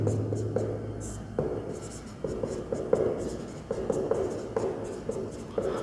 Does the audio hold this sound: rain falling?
no